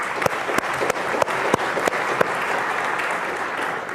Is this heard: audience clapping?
yes